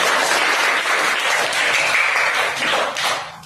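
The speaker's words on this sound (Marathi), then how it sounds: "जोरात वाजवा टाळ्या." A small audience claps loudly and steadily at a children's midbrain activation class in Pimpaler, the dense applause holding close and even for about three seconds before tapering off at the end.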